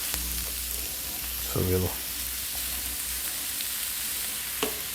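Prime rib slices for a Philly steak sandwich frying on a hot surface, a dense continuous sizzle close by with a short clatter partway through, while someone speaks briefly.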